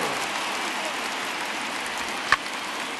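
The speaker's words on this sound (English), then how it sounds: "There is rain in the area" Steady rain hisses evenly throughout a baseball game in MLB The Show 19, a constant soft wash of noise with one brief sharp tap near the end.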